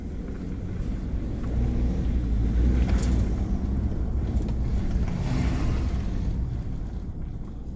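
Ford F-150 EcoBoost truck with a modified intake, driving with the windows down; a steady low engine drone mixed with heavy wind and road rush, fairly loud and continuous without speech.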